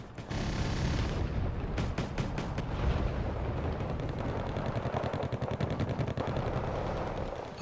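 Gazelle cannons and massed gunfire roar in a war strategy video game battle, loud and nonstop, with rapid rattling bursts layered over a deep rumble of explosions throughout.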